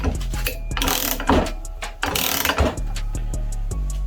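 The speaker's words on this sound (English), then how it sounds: "And then you just reverse the ratchet, start pulling it on." A ratchet clicks in a steady, close run of sharp ticks as it presses a new steel pulley onto the snout of a Barra engine water pump.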